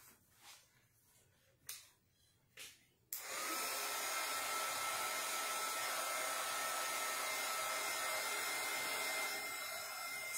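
A few faint handling clicks and bumps, then a hair dryer switches on abruptly and blows in a steady, even roar over painted decor pieces, no talking.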